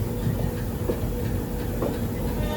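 An LHB coach train, the Paharia Express, rolling into Howrah Junction, a dense steady rumble with faint rhythmic wheel clatter, close and continuous, no talking.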